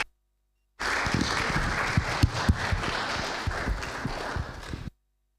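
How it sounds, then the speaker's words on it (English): Audience applause at the close of a panel discussion at an open source policy forum: a dense, steady burst of many clapping hands that starts sharply out of silence, holds for about four seconds, then stops abruptly. "please, big round of applause"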